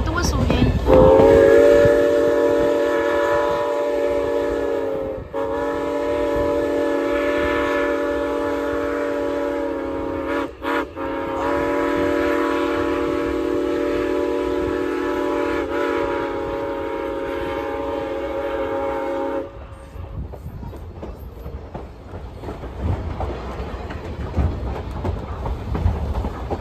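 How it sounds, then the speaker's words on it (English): A loud, sustained whistle from Norfolk and Western 475 steam locomotive blows for nearly twenty seconds with brief breaks, then cuts off, leaving rumbling train noise. "Here we go with the whistle again."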